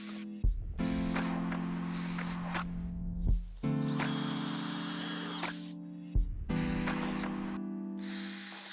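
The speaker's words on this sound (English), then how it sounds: "I'm going to start by drilling pilot holes along the 2 edges," A power drill bores pilot holes into an old wooden door in three long whirring runs, each starting with a sharp bite and holding a steady motor whine, separated by brief pauses.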